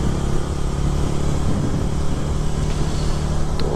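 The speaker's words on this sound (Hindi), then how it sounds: "और रोनियन की अभी स्पीड है 56 पे चल रही है, और चौथा गियर पे चल रहे हैं" A TVS Ronin motorcycle engine drones steadily while being ridden in fourth gear at around 56, with constant wind rush and no breaks or speech.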